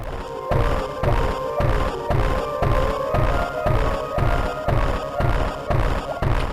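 Infinite bomb jumps in the video game Metroid Zero Mission: a steady run of repeated low thumping bomb blasts about every 0.7 seconds, looping over a sustained musical drone.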